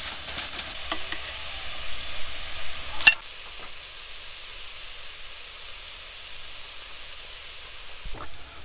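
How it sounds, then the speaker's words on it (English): Lamb mince kebabs with onions, herbs, spices and chopped chilli sizzle on a barbecue, a bright close hiss that is loud at first, drops after a sharp clatter, then keeps up as a softer steady fizz. "Oh, sizzle."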